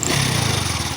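A Hero Passion Pro 110cc motorcycle engine with a smoke problem revs sharply close by, a loud, steady mechanical drone with rapid firing pulses for about a second.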